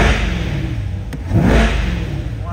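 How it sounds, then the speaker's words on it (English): A 2020 Corvette C8 Coupe 3LT Z51 V8 is revved while parked, a loud, close engine roar that swells into a rev midway and then holds steady. "Turn on the headlights and let's give it a couple revs."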